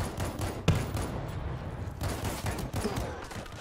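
Gunfire and grenade launcher blasts in the zombie shooter World War Z: a quiet, dense stretch of overlapping shots and bursts with one sharper crack near the start.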